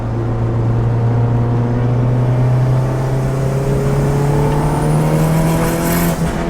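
A boosted car engine revs and pulls hard under acceleration, a loud, steady drone whose pitch climbs gradually over several seconds, close and with no talking.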